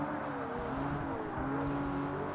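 A race car in Forza Motorsport runs in 5th gear with its engine sounding strained: a steady, fairly quiet whining drone that wavers slightly in pitch throughout, with no talk.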